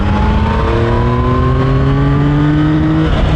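A 2024 Yamaha MT-09 motorcycle engine, quick shifter, drops through the gears under hard braking, loud and close, its pitch stepping down in a few smooth glides with no talking.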